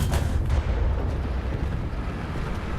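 A cannon shell fired in War Thunder gives a single sharp, loud report at the very start, followed by a long, low rumbling tail of engine and battlefield noise.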